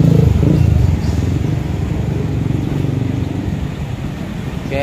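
A motorbike roars past close by on Jalan Srikandi in Pekanbaru outside a coffee shop, its engine loudest at first and then fading into a steady street rumble.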